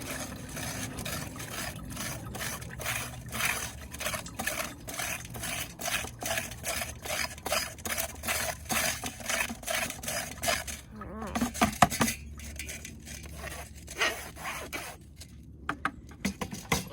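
A tool scrapes ceramic dipping glaze out of a container in quick, repeated rough strokes. The scraping runs steadily for about eleven seconds, then gives way to a few sparse clinks and rubs.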